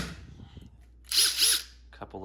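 Power drill driving a screw with a Flex bit: a brief, close whirring burst of the motor rising and falling over about half a second, preceded by faint handling noise and followed by a short clicky rattle.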